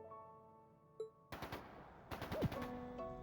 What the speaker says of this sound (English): It's gunfire. And not just gunfire either.